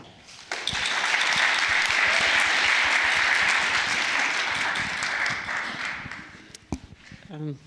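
Sustained applause from an audience at an art talk welcoming the speakers, dense clapping that swells quickly, holds steady for several seconds, then tapers off as a voice begins.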